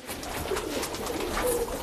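Pigeons coo softly and steadily in a city pigeon loft, a low murmuring coo that continues throughout at moderate level without any speech.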